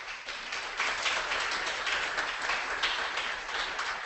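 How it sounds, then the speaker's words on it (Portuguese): Sustained applause from a workshop audience, a dense steady wash of many hands clapping at moderate distance, continuing evenly without any talk over it. "Aplausos para vocês agora."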